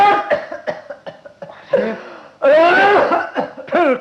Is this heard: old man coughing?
yes